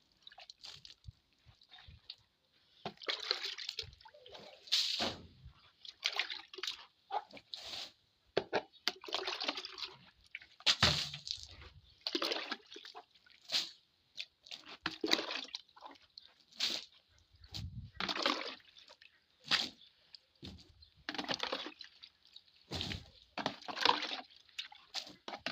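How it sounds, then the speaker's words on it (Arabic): Water splashes and slops across a house floor during washing with phenyl disinfectant, in repeated pours and sloshing bursts with dripping between, fairly close and alone. "كل حاجه بغرقها ميه اهو بفنيك"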